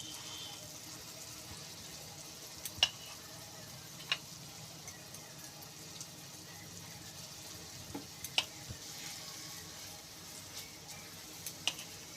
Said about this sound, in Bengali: এইবার বড়াগুলো ভেজে নেব।